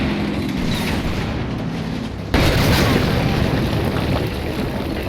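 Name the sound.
tank cannon shot in video game Combat Mission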